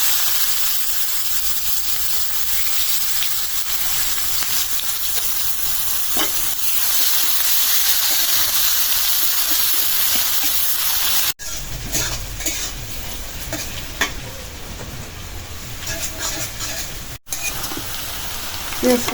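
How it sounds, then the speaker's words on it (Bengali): Onions sizzling in oil previously used to fry koi fish, a loud hissing crackle that runs continuously with brief stirring clatters, cutting in and out near the end. "মাছ ভাজা তেলে দিয়ে দিলাম পেঁয়াজ"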